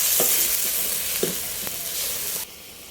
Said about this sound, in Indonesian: Garam, penyedap rasa, gula pasir, aduk-aduk sampai kecampur rata semua.